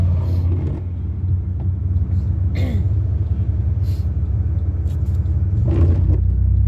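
Steady low rumble of a car being driven, heard from inside the cabin, continuous throughout with someone talking over it at times.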